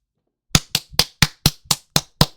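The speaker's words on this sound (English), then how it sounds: "Let's get a round of applause for Haley Welch up in here, man." Eight sharp, evenly spaced claps, close and crisp, ringing out alone in a quick steady rhythm after a moment of silence.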